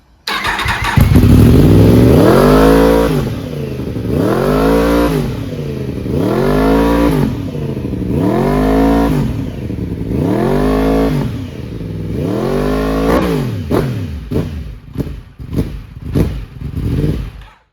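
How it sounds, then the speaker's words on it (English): A Yamaha R1M sport motorcycle runs its automatic self warm-up, the engine revving up and dropping back in a steady repeating cycle of about eight loud swells, then giving way to quicker, choppier throttle blips at the end. "hold, turn on the bike, and this is like a self warm-up procedure, so the bike can do it itself"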